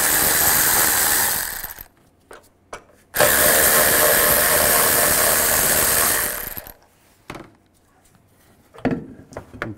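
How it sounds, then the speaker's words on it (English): A power ratchet or impact tool whirs in two long, loud runs, backing out 10 millimeter bolts on a 2010-2017 Chevy Equinox, separated and followed by scattered clicks and clanks of handling. "Take these 2 10 millimeter bolts out."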